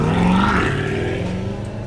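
A 2020 Chevrolet Corvette C8 convertible engine revs loud and close, a steady throaty roar that rises and then eases off over a couple of seconds, with no talking.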